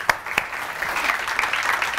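A studio audience on a Pakistani morning talk show breaks into applause, a dense, steady clapping wash after a couple of sharp individual claps at the start.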